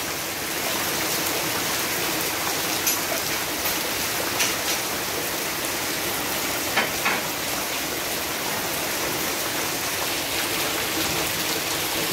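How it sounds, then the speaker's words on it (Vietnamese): Heavy rain pours outdoors in a steady, dense wash with no break, occasional brighter splashes and drips standing out against the constant roar; no one speaks. "Mưa rất to."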